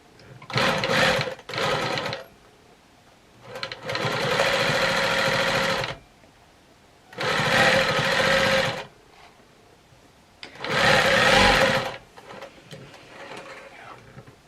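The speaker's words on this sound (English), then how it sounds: "I'm just going to sew it on machine today." A sewing machine stitching a box pleated placket on a garment, running in four loud bursts of rapid, even whirring with quiet pauses between them, close by and with no talking.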